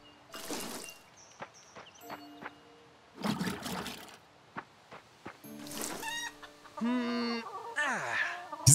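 Chickens clucking in the farming video game Fae Farm, short bursts of clucks and squawks mixed with splashing and other game effects, fairly loud and close.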